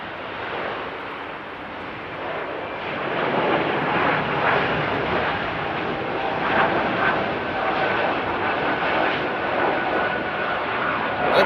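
A jet airliner takes off at Amsterdam airport from runway 09, a loud, broad engine roar that swells and holds steady throughout, with some wind buffeting on the microphone.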